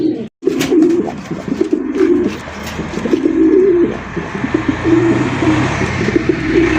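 Racing pigeons coo close by in repeated low, throaty calls, one after another, with a faint chirp or two in the background.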